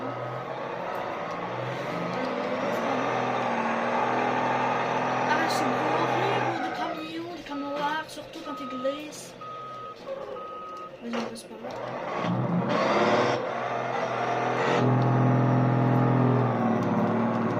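Truck engine in a driving video game hums and revs steadily for most of the stretch, with brief beeping tones in the middle, while someone talks over it throughout.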